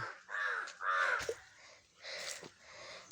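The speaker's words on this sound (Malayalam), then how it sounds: "അടുത്ത കാക്കപ്പെണ്ണ് വന്നു." Several loud, nearby caws come from a crow visiting a home garden, in separate harsh calls with short gaps between them.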